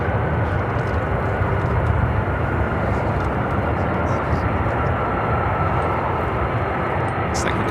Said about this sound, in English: Looks like we got that Atlas Air Queen taxiing toward our cameras